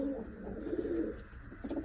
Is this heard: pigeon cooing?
yes